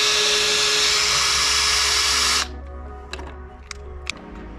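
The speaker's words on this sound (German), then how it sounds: "Anschließend werde ich die Schrauben herausdrehen." A power screwdriver whirs steadily while backing screws out of a steel pool wall frame, then stops, followed by a few faint clicks and light handling noises.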